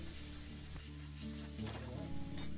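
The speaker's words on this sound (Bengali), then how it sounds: "সব কিছু দিয়ে দেওয়ার পর খুব ভালোভাবে কিন্তু খুন্তি দিয়ে নাড়াচাড়া করে নিতে হবে মশলাটা খুব ভালো করে কষিয়ে নিতে হবে" Spices for a mutton curry are stirred and fried in oil with a spatula, a low continuous sizzle with soft scraping strokes, faint and close.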